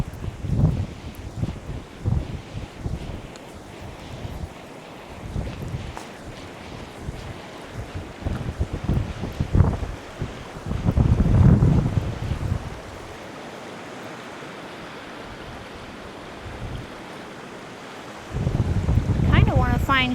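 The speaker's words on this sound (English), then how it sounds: "I know it's windy." Wind gusts roar across the microphone on a woodland hike by a river, coming in uneven rumbling surges with quieter lulls between, loud and close, with a person talking at times.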